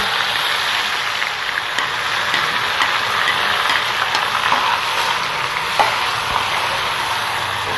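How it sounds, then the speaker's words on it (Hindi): Onion paste fries in a pan for egg korma, producing a dense, even hiss of sizzling oil that holds steady for the whole stretch, with a few faint ticks and no voices. "इसे भूनना है प्याज़ों को ना 3 से 4 मिनट तक"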